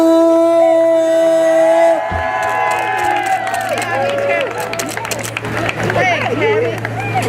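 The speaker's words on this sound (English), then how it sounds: "Let's give a round of applause" At an outdoor Fight for 15 march, a steady tone ends abruptly, then a crowd breaks into clapping, cheering and shouting, with a loud, dense wash of voices continuing throughout.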